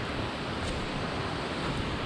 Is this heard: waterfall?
yes